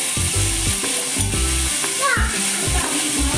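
Onion, ginger-garlic paste, chilli and tomato sautéing in hot oil in a pan for Goan clam sukke, a steady close sizzle broken by repeated stirring scrapes and clinks.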